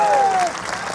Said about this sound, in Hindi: जोरदार ताली बजा करके धन्यवाद दीजिएगा